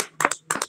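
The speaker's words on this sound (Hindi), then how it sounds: "एक ऊंचे ताली के साथ आइए" A congregation at a women's fellowship prayer meeting claps loudly in praise: two short, close bursts of hand-clapping with a brief gap between them.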